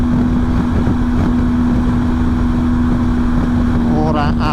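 Steady cabin noise inside an Acra van cruising at 130 km/h, with a constant loud roar of road and wind noise and a low engine drone in a little crosswind, continuous throughout.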